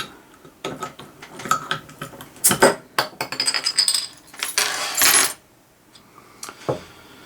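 Keys jingle and clink metallically against a Zima bottle cap as it is pried open. Irregular bursts of close, bright rattling and scraping end in a final click, with no talking.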